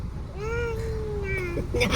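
A cat gives a single drawn-out meow up close, followed by a softer short mew, with faint background noise.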